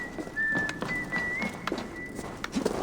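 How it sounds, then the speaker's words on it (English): A character in Assassin's Creed Valhalla whistles a wavering melodic tune while working, one clear sustained tone drifting in pitch, over soft background game ambience and occasional hoof-like clops. "Whistle while you work there, Ivaldi."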